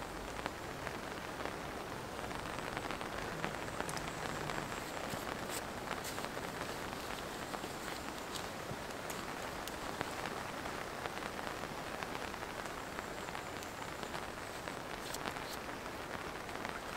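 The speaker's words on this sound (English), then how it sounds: "sound of the rain's gorgeous." Steady rain patters on a canvas lavvu tent at a solo bushcraft wild camp in the UK, a dense, even hiss of drops with occasional louder taps and faint rustling, no voices.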